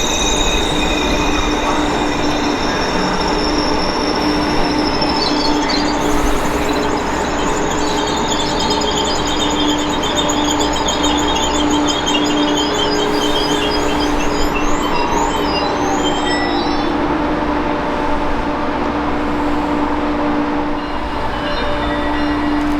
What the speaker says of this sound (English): catching southbound Acela service train number 2271, making their station stop at New Haven Union Station